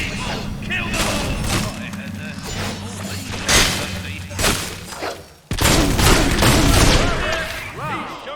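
Gunfire in the video game Fable 2, heard as repeated sharp shots and booming bursts spread across the clip, loud and close, with voices talking over parts of it.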